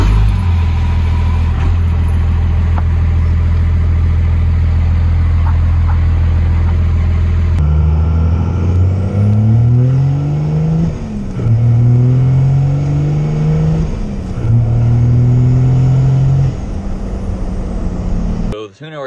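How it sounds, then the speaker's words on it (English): A truck engine fitted with a newly installed Quadzilla Adrenaline tuner idles loudly, then revs repeatedly, its pitch rising and falling in several surges before cutting off near the end. "I'm gonna try and give the truck a start."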